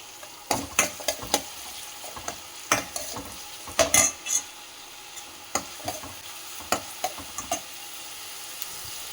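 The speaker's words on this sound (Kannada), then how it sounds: "ನಾನು ಕ್ಯಾಪ್ಸಿಕಮ್ಮನ್ನು ಹಾಕ್ತಾಯಿದ್ದೀನಿ. ಆಮೇಲೆ ಈರುಳ್ಳಿಯನ್ನು ಹಾಕೋಣ." Capsicum and onion being stirred in a hot pan, heard as a run of sharp, irregular scraping and tapping strokes over a faint sizzle, close and fairly quiet, with no talking.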